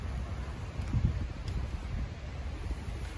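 Wind buffets the microphone on a walk along Dongtan Beach in Pattaya, a low, uneven rumble with soft gusts and light rustling throughout.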